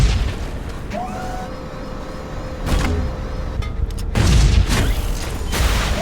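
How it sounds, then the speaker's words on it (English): A grenade blowing up in the video game Shadow Complex Remastered, a loud, rumbling low boom over a dense layer of game noise and tones, swelling again toward the end. "Try to grenade the guy."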